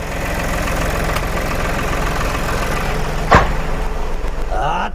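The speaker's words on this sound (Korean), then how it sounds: "근데 엔진 소리가 좋아졌네" A tractor engine, freshly rebuilt with a rebore, idles close by with a steady, rhythmic low chugging, and a brief sharp knock cuts through partway along.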